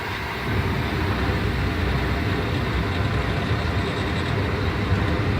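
A semi truck tractor in first gear pulls against its set trailer brake during a CDL pre-trip brake check, producing a steady, loud diesel engine rumble that holds for the whole stretch with no talking.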